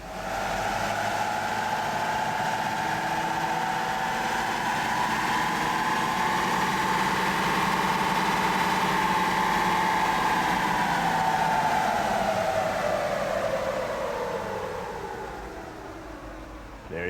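A Chevy Duramax diesel truck engine roars steadily under load on a dyno for a baseline pull, loud and sustained for about sixteen seconds, its tone slowly rising and then falling away near the end.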